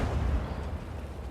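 A tank gun firing in World of Tanks, heard as a heavy, booming low blast that fills the brief moment and rumbles on without any voice.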